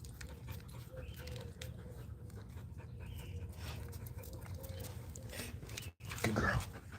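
Dogs pant steadily and rhythmically close by, with a brief whimper and some shuffling, while a voice speaks softly over them near the end.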